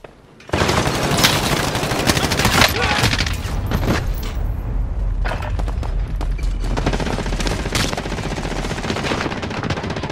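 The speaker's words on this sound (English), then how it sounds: "Throwing Alpha grenade" In Call of Duty Warzone payload gameplay, a sudden loud grenade blast opens into a long, dense stretch of rapid gunfire and booming shots that keep going at close range.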